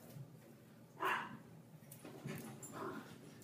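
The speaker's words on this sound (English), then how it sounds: "if you guys can hear, I am dog sitting, so I have my sister's toy poodle" A toy poodle gives a short bark or whimper burst near the middle, followed by fainter whiny sounds, indoors with no talking.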